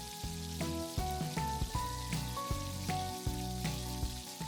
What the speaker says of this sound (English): Let's drop small sections of the batter into the hot oil.